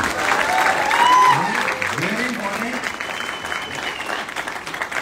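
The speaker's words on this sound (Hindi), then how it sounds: "तो अपने लिए एक बार जोरदार तालियां" A seated training boot camp audience breaks into loud, sustained applause that slowly eases off while a voice speaks over it.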